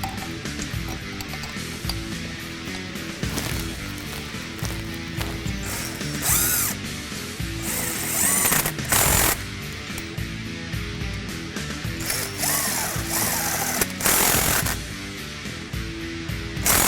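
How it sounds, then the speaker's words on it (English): Impact or ratchet power tool running transmission mount bolts back in on a 2011 Ford F-150 3.5L EcoBoost, loud bursts of whirring and clicking ratchet action in repeated spurts with no talk. "Reinstall the transmission mount bolts."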